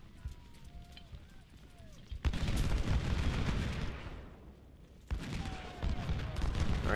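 Crackling volleys of musket gunfire from a Civil War battle in the video game Ultimate General: Civil War, two dense bursts of rattling shots over a low battle rumble, with a voice heard faintly.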